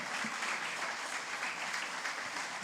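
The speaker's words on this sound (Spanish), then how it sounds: "Dale palmas al Señor." Church congregation clapping together during a Spanish-language worship service, a steady dense wash of applause filling the room, with a voice faintly audible underneath.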